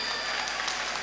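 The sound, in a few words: crowd applause at a stage show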